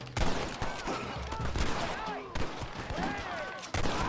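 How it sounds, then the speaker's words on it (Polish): Cannons fire in Red Dead Redemption, heavy booming blasts mixed with rattling gunfire in a dense, loud battle, with someone talking over it. "Armaty."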